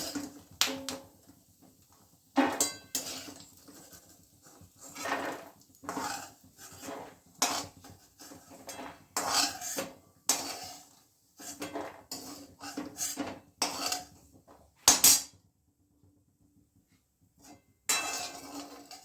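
Roasted pistachios scooped out of a pan with a metal spoon: a series of close, sharp clinks and scrapes of metal on metal in irregular bursts, with quiet gaps between them.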